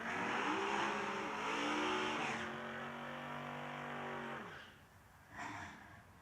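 At a drag racing event, a Chevrolet S10 drag racing truck engine roars under hard acceleration, rising in pitch through a couple of shifts before fading off into the distance, with faint crowd ambience after.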